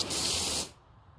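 A pressure washer jet in PowerWash Simulator lets out one loud, harsh spray burst lasting about half a second, then cuts off abruptly into quiet.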